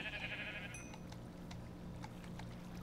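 Sheep bleating in a Minecraft-style video game, one short high bleat at the start followed by faint clicks and a low background hum.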